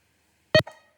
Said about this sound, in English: So the alarm sound will just keep ringing until you stop.